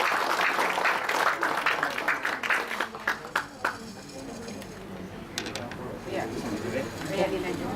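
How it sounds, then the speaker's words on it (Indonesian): An indoor audience at a lupus community gathering gives a burst of applause that is loudest at first and fades into scattered claps, with voices talking through it. "Beri tepuk tangan dong buat Ibu Yuli."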